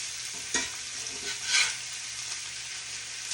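Cooked smoked turkey pieces reheat in a skillet with the heat already switched off, a soft, low sizzle broken by a couple of stirring scrapes, with no talking.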